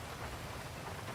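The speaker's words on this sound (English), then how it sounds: "Wait, let me turn off the rain because it's loud." Rain sound effect playing on a livestream overlay, a steady faint hiss of falling rain with no pauses.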